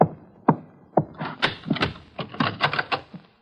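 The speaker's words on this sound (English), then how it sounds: "Shortly after, there was a knock on my door." Knocking on a room door, a few sharp wooden raps near the start followed by a busier run of thuds and bumps, close and fairly loud, with no talk.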